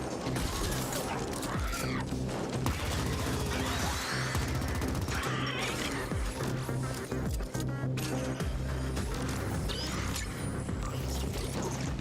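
A grenade thrown and blowing up amid chaotic combat in the sci-fi shooter The Ascent, with dense clattering mechanical gunfire, crashes and a bursting blast layered under continuous music and effects.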